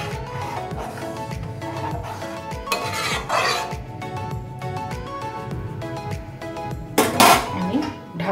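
Sour okra chutney is stirred in a cooking pot in a Bengali kitchen, with repeated scraping and clinking of a spoon against the pot in a steady rhythm and a few louder metallic clanks near the end.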